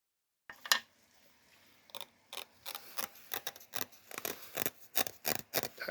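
Moving part of an eBay shrinker stretcher metalworking machine sliding roughly on its guide surfaces, a string of dry scraping and clicking bursts after a silent start, close and fairly quiet, with no talking.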